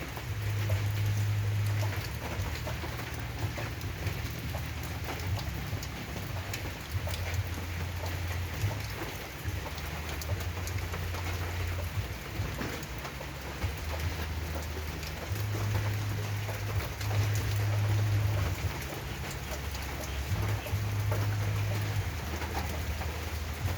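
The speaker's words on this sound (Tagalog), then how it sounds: "umuulan guys" Rain falls steadily in a constant hiss while a pigeon coos at intervals in the background; no voices.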